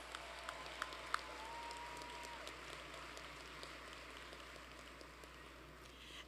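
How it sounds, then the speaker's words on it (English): Faint, distant applause at a spring commencement ceremony for Master of Mass Communication degree recipients, a soft, steady wash of clapping with a few sharper claps early on. "Another round of applause for our Master of Mass Communication degree recipients."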